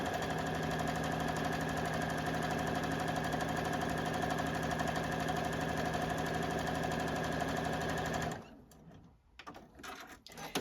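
A JUKI sewing machine stitches the bottom of a fabric Santa ornament in a fast, steady mechanical whir lasting about eight seconds, then stops, leaving quieter handling noises.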